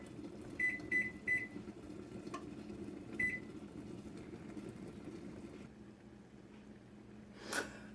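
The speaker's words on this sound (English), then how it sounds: "the timer went off" A kitchen timer chirps four times in quick succession, moderately loud, while chicken and dumplings cook, with steady low kitchen hum underneath and a short rustle near the end.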